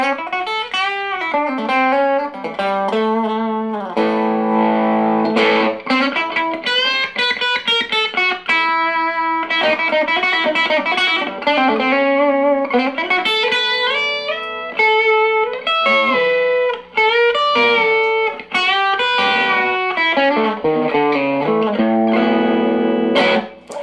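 A warm, slightly overdriven electric guitar through a P90 neck pickup plays a melodic lead line with sustained notes and quick runs, steady and clear with no voices.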